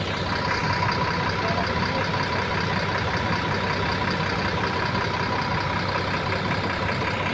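A Mahendra Transport bus, RMH series, idles at a ticket office in Cawang: a steady, close diesel rumble with an even hum, continuous and unchanging, with no talk over it.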